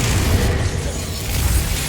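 A Confringo blasting curse explodes in Hogwarts Legacy, a heavy rumbling boom blending into thick, sustained battle noise that stays loud throughout the short stretch.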